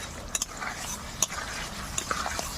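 A utensil stirs potatoes through spiced curry in a pan, producing scattered scraping clicks and knocks against the metal over a soft simmering sizzle.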